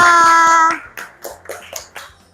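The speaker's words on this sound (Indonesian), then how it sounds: "Tepuk tangan buat kita semua" A voice holds a sung note, then a handful of scattered hand claps from a class follow, uneven and fairly soft, fading out.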